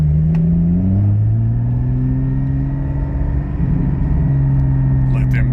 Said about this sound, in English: I'm going to let you hear it shift through the gears wide open.